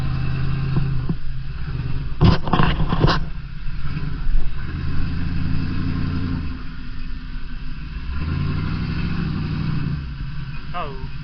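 An off-road vehicle's engine revs harder as more throttle is given, a loud low rumble surging and falling under ongoing talk, with sharp knocks partway through.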